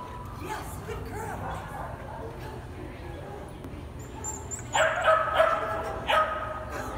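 A puppy barks a few times near the end, sharp yips over steady background noise, with voices around it.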